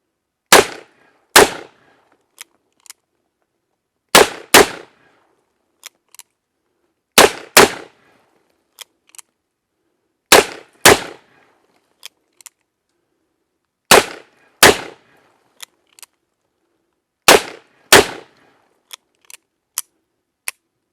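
Cimarron Bad Boy revolvers, Colt replicas chambered in 10mm and .44 Magnum, fire sharp, loud reports, mostly in quick pairs, about six times over the stretch, with fainter clicks and knocks between them.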